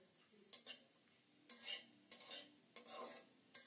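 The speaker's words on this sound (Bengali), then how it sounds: "আলুর পরিমাণ লবণ দিয়ে নেড়ে ছেড়ে ঢেকে ঢেকে খুব সুন্দর মতো আলুগুলো ভেজে নেব" Potatoes frying with salt in a little oil in a pan, heard as a soft, quiet sizzle with periodic stirring and scraping strokes, no voices.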